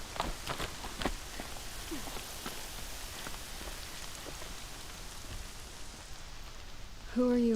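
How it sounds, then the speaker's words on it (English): Steady rain falls in the fantasy action game Horizon Zero Dawn, a dense continuous patter across the whole stretch with a few sharper drop hits and a brief voice near the end. "Boy, it is raining."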